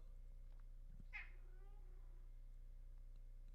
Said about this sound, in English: That's how Cat's doing, by the way, if y'all heard that. That was so loud